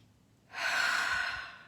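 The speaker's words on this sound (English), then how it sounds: "Another breath." A slow, deep breath taken during a guided meditation, a soft airy exhale swelling after a quiet pause and fading gently, close and alone.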